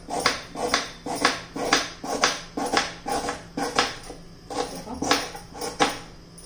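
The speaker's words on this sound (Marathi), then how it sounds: "त्यासाठी बघा मी प्रथम कांदा चिरून घेते, तोही उभा चिरायचा आहे।" An onion is sliced lengthwise into thin slices with a knife: a quick, even run of about a dozen close, crisp cutting strokes with no talking.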